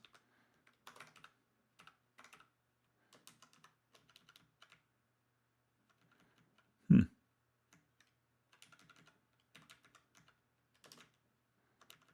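Keystrokes on a computer keyboard during a coding session, sparse bursts of clicky taps with pauses between, fairly close, plus one sharp louder knock partway through; no speech.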